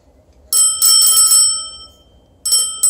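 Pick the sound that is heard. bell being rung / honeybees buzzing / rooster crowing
bell being rung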